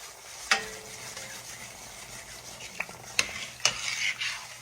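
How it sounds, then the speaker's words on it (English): Gravy roux is stirred in a skillet, a soft scraping and sizzle with a few sharp clinks of the utensil against the pan, close and steady over a low kitchen hum. "you're going to stand here and stir it because it will burn"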